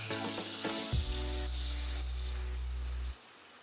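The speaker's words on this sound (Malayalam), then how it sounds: "അടുത്തായി നമുക്ക് കറിവേപ്പിലയും പച്ചമുളകും അതിലേക്ക് ഇട്ട് കൊടുക്കാം" Curry leaves and green chillies crackle into hot oil for a homemade prawn pickle, starting with sharp pops before settling into a dense sizzle under a low steady hum that cuts off near the end.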